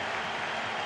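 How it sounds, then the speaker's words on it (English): A stadium crowd in the FIFA 23 video game, Monza versus Inter in Serie A, keeps up a continuous broad roar of cheering and clapping, loud and unbroken over a short stretch. "Well, the crowd are doing their bit"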